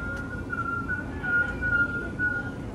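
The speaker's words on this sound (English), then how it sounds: "It gets rid of all this other confusion and noise, and this little whistle." A steady whistle tone heard through a ham radio receiver, a thin sustained pitch that wavers slightly over a bed of low static and hiss, with no talk.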